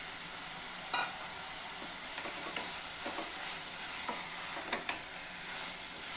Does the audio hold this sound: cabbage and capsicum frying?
yes